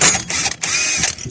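A CV joint bolt on an Audi TT is worked loose with a large H17 Allen key, giving a brief burst of close, clicking ratchet-like metal turns with short pauses between strokes.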